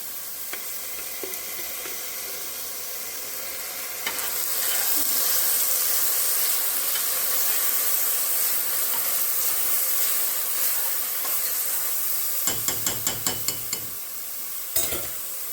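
Garlic frying in a pan for a keto meal, a steady sizzle that swells louder partway through, with a few sharp clinks and stirring knocks near the end.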